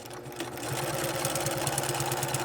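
A sewing machine runs at a steady, even pace stitching a collar seam close to the edge, its motor hum and rapid needle rhythm continuous and near.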